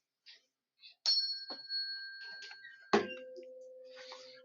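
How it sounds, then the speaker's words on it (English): A guitar body resonates at 256 hertz, with light taps and ringing bell-like tones before a sharp strike sets off a sustained, steady hum that slowly fades. "I'm forcing the body of the guitar to vibrate at 256 hertz"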